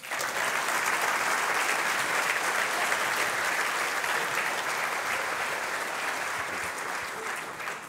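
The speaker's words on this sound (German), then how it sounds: "Als nächstes dürfen wir für einen unserer Sponsoren einen Applaus bitten" An audience at the Joanneum Racing Graz JR22 race car rollout applauds to welcome a sponsor, a dense, steady round of clapping lasting several seconds and slowly easing off near the end.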